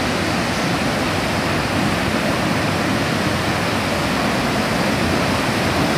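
A fast-flowing river current rushes over exotic rocks at the Polaga river, a dense, steady roar of churning water that fills the whole clip without pause or voices.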